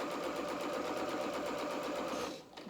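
Close, continuous whir of a sewing machine stitching along a fabric edge of a dress, holding an even pace for a couple of seconds before it winds down and halts.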